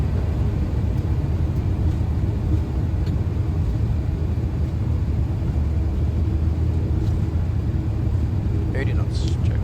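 Boeing 737 jet engines spool up for a takeoff roll on runway 24 at Rotterdam, heard as a steady, loud broadband rumble and roar that holds without a break, with a faint higher whine near the end.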